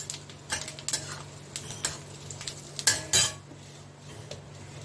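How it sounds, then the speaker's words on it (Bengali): Cumin seeds tempering in white oil and butter in a pan, with a faint sizzle under repeated metal clinks and scrapes of a utensil against the pan, in short uneven bursts. "এর মধ্যে দিয়ে দিচ্ছি আমি জিরা ফোড়ন"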